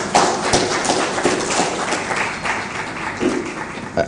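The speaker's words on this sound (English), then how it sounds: "Round of applause, ladies and gentlemen, for Sam." A crowd at a tourism expo applauds for a presenter, a moderate, uneven round of clapping with a few louder individual claps, sustained for several seconds.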